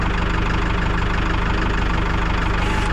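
A tractor engine idles steadily and loudly close by, a continuous throbbing rumble with an even pulsing rhythm throughout, no voices over it.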